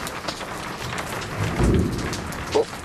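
A low thunder rumble rises out of steady rainstorm noise, with a brief thump following at the end.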